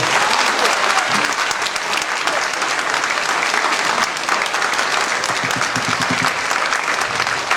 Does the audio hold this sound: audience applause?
yes